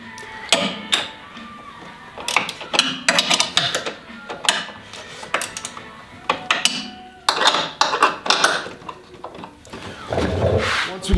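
Bolts being tightened on the belt drive of a 2017 Polaris AXYS snowmobile during a TKI belt drive install, heard as irregular, loud metallic clanks and clinks of tools on metal, some in quick clusters, close by.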